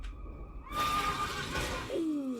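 A horse neighs loudly in a fantasy show scene, a long rising-and-falling whinny followed by a second shorter whinny near the end, heard alone without talk.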